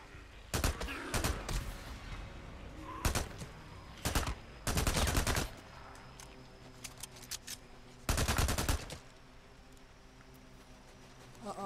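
Video game gunfire from Days Gone, with repeated loud bursts of rapid shots separated by short pauses, the heaviest volleys near the start, middle and end, over a low rumbling game background.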